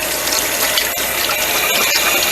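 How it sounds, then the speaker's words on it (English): Hands being rinsed under a running kitchen tap: a steady, close gush of water splashing into the sink, with brief breaks in the flow as the hands move. "I'm going to rinse my hands off."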